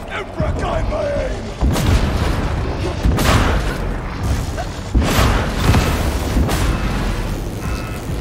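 A grenade explodes in the video game Darktide, sending loud booming blasts through thick combat noise, with several heavy bursts recurring over the mix and voices shouting now and then.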